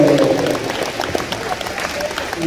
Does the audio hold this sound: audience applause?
yes